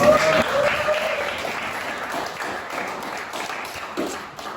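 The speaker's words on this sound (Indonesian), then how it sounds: "Tepuk tangan sekali lagi" An audience in a classroom claps together in a steady round of applause, dense at first and gradually thinning out over a few seconds.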